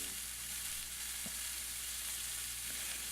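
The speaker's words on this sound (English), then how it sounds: "I'm going to take it and just cook it on the side for about a minute" A thick steak sears on its side in a hot pan, giving a steady, close sizzle and crackle of frying fat with no voices.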